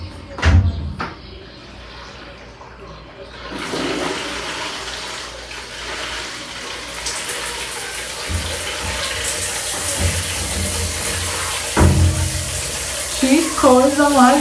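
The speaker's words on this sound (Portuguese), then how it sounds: "Primeiro eu vou ligar o chuveiro pra sair água fria." A newly installed shower is switched on: a few clunks first, then water hisses steadily and grows fuller as it keeps running, with a brief voice near the end.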